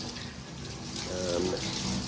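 A tap runs steadily in a house, water splashing into a sink for the whole stretch at moderate level, with a brief voice-like tone midway.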